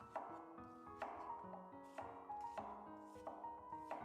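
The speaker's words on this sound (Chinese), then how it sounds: "再准备半个昨天没吃完的洋葱，切成洋葱丝就可以" Half an onion sliced into strips with a knife on a board, a soft, evenly spaced series of chopping taps, close and quiet.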